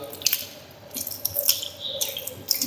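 Tap water splashes and drips as hands are washed for wudu, with uneven close splashes and trickles coming in bursts across the stretch.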